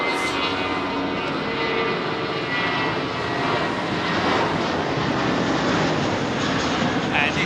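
Jet airliner passing along runway 27R at Heathrow Airport, a loud, steady broadband engine roar that holds for the full stretch, with a faint voice murmuring underneath.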